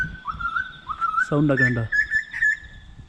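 Melodious whistled song of a koel-like bird in a Melbourne park, rising and warbling phrases repeated over three seconds, fairly close, with a voice speaking briefly underneath.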